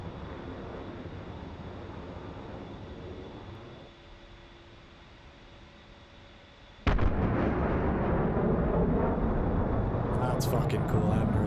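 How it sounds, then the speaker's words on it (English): A loud sudden boom from a jet passing in the DCS flight simulator while flying an A-10C II, cutting in abruptly over steady engine hum and staying as a broad roar, with crackling afterward. "You hear the sonic boom there?"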